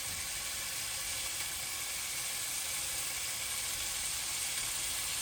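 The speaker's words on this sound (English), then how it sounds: "You can hear it already starting to fry." Bacon fries in a pan before its grease is drained for a chicken bacon rice casserole, making a faint, even sizzle that carries steadily from start to finish.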